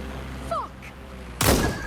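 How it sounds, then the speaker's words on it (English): Gunfire in the video game Watch Dogs Legion: a single sharp shot cracks out loudly over steady in-game background noise, after a couple of brief chirping tones. "Gunfire over here! Get down!"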